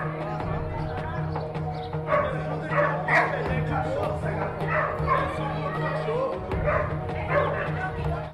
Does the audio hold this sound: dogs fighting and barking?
yes